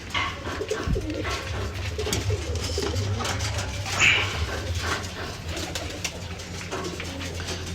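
Pigeons cooing at a bird-keeping spot in Nagercoil, India, a low steady murmur of coos running throughout with other bird calls and light background noise.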